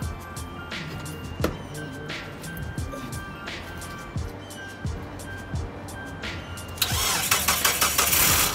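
A Mitsubishi Eclipse car engine cranks with a rhythmic series of starter pulses, then catches and roars to life with a loud surge that continues running near the listener.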